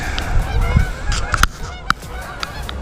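Geese honk near a fishing spot by the water, a few sharp, loud calls ringing out over low background rumble.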